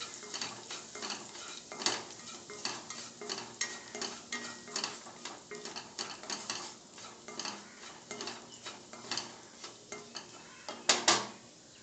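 Five or six garlic cloves sautéed in a pan over an almost full flame, with a rapid run of close spoon scrapes and clinks against the metal pan over a low sizzle.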